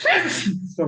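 A single sneeze bursts out loudly and close at the start, during a classroom lesson about scripting, followed after a short gap by a person speaking.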